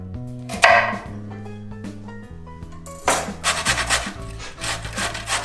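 Vegetables such as zucchini or carrots cut into strips for a vegan stir fry, with repeated rasping cuts close by and a louder, busier burst of cutting in the second half. Tonal sounds run underneath throughout.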